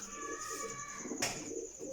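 A pigeon coos faintly and close by, with soft low throaty calls under a steady background hum and a short rustle midway.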